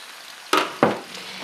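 Egg roll vegetables drop into a preheated pan with extra virgin olive oil, two quick bursts of loud close sizzling, each flaring sharply then fading into a softer frying hiss.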